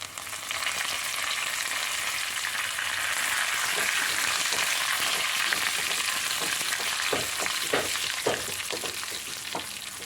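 Garlic and curry leaves frying in hot oil for a tempering: a dense, continuous sizzle close up, with sharper crackles and spoon-stirring scrapes bursting through in the second half, no voices.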